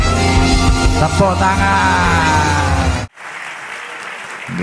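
A loud, crowded mix of voices gives way after a sudden cut to steady, broadband clapping from an audience, sustained to the end.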